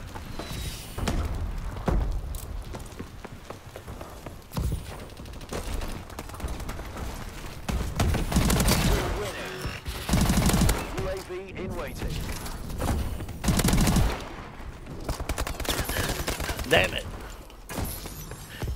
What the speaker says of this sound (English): You can't outrun that gun. The STG, just too powerful